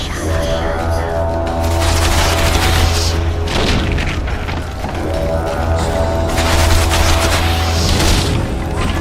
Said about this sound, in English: Take cover! They're shooting!